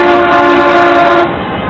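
A train horn blows one loud, sustained, tonal blast for about a second before it cuts back to lingering rumble.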